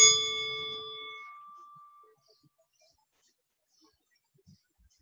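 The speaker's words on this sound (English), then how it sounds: "Let's listen to our bell again." A single meditation bell struck once, its clear ringing tone decaying slowly over about two seconds, then near silence.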